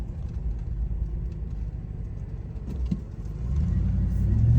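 A car pulls out onto a road from a Tennessee back road near North Shore Drive, its engine rumbling steadily before swelling louder as it accelerates; no one talks.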